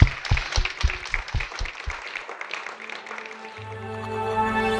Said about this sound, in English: Maybe we can clap because there's a lot of us on this panel.